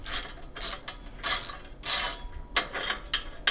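A socket ratchet working a bolt on an Indian Challenger motorcycle's mid control kit gives several short bursts of clicking pawl chatter, close and crisp, separated by brief pauses.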